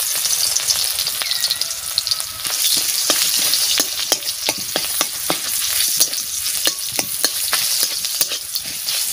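Garlic fries in hot oil in a pan for a greens bhaji, giving a loud, continuous sizzle with repeated scraping and stirring clicks from a utensil throughout.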